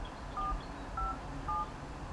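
Push-button telephone dialing: three short electronic DTMF tones spaced about half a second apart, moderately clear over a faint background hiss, with no talking.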